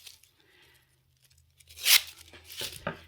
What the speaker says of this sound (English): I'm just going to get my scissors and run through and make a little bit of a